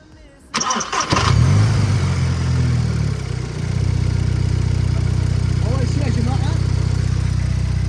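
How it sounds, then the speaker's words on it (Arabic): A VW Golf Mk5 fitted with a sport air filter starts up at about half a second and then settles into a steady, loud engine drone close by. The intake note holds continuously through the rest of the clip. "تسمعوا صوت اللانش كنترول وهو عم يسحب الهواء بعدين على المحرك"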